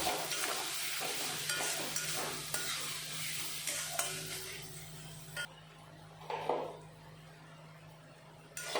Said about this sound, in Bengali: এখন সব উপকরণগুলো ভালো করে মিশিয়ে আমি কষিয়ে নেব।